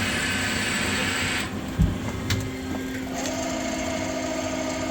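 A PolyGim Diamond 42CSL CNC Swiss hybrid lathe runs its spindles at 1,000 RPM, giving a steady mechanical whine and hum heard up close, with a couple of brief knocks partway through and no voices.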